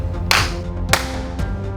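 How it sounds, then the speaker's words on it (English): Three sharp hand claps spaced across a short stretch, the first loudest and the later ones softer, over a low steady room hum with no talking. "How do you like that clap?"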